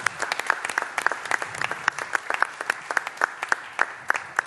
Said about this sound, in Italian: Matteo e Stefano, un bel applauso anche a loro.